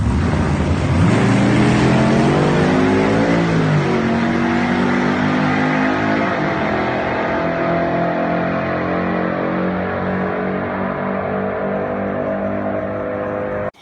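An 840 hp Oldsmobile Omega drag car engine roars loud and close, revving up sharply early on, then holding a rough, sustained high drone that slowly eases toward the end.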